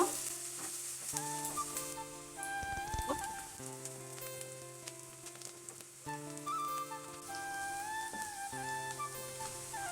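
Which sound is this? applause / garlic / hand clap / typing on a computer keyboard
garlic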